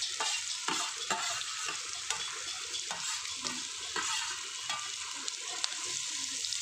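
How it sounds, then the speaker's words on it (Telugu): Bitter gourd pieces sizzle steadily in hot oil, a dense crackling fry with occasional stirring scrapes throughout, close and continuous with no voices. "కాకరకాయను దోరగా వేయించుకోవాలండి"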